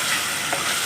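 Onions and green chillies sautéing in a pan for chicken salna, a brief burst of steady close hissing sizzle.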